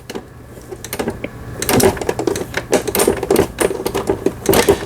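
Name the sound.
Brother XL 30300 sewing machine stitching after repair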